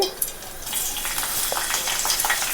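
Hot oil crackles and sizzles continuously as curry leaves fry, with scattered sharper pops over a steady hiss, close and fairly loud.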